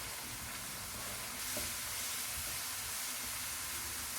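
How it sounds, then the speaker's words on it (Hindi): Carrots frying with sugar in a pan give a steady, dense sizzle that grows slightly louder partway through and carries on unbroken with no talking. "2 मिनट के बाद इनमें चीनी डालेंगे और 2 मिनट तक इनको फ्राई करेंगे।"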